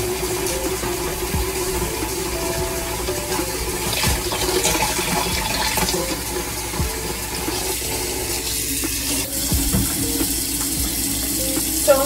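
A kitchen tap runs steadily close by while the water heats up, a continuous, even rush of water with no talking.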